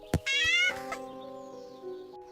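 A cat gives a single clear, tonal meow of about half a second, followed by a fading trailing tone, with a brief thump just before it.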